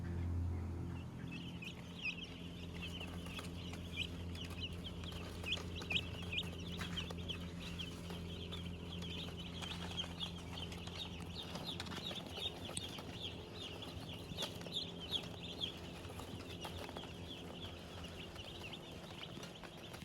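Many young chickens cluck and cheep continuously inside a large brooder house holding about 500 birds on a Texas farm, a dense layered chatter of overlapping calls at moderate distance, with a low hum beneath and no talking.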